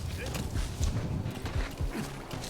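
Horse hooves clop steadily in the video game Metal Gear Solid V, a rhythmic trot under a continuous rumble of game ambience.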